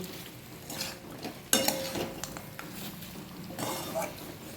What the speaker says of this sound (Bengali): এবার ভালো করে আবার মশলাগুলোর সঙ্গে চিকেনটাকে কষিয়ে নেব